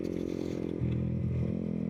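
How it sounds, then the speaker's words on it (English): A Yamaha YZF R125 Gen 3 motorcycle, Monster Energy edition, idles and revs with its exhaust baffle removed, a loud, raspy, buzzing drone that swells slightly partway through, with no voices. "So you can hear by the exhaust, there is no baffling"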